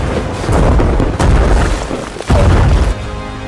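A heavy explosion booms in a helicopter battle scene, with deep rumbling blasts and repeated bursts rolling loudly through the clip.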